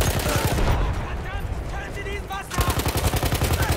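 A Hellriegel submachine gun fires in Battlefield 1 in fast, continuous automatic bursts, loud and close, with a short pause midway before another rapid rattling burst; chatter and battlefield noise sit underneath.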